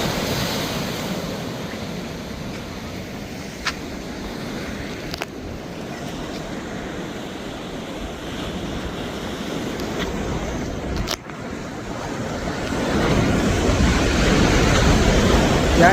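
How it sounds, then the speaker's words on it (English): Rushing river water at Assin Manso in Ghana roars continuously, with a broad, turbulent wash that swells louder near the end, mixed with wind buffeting the microphone and a few brief knocks. "Y'all hear the roar of that water?"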